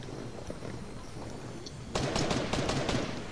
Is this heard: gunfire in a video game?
yes